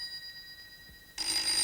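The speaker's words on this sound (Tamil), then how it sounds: "Sir phone sir." Telephone ringing in a Tamil film, a faint steady electronic tone that gives way to a louder burst of bright ringing near the end.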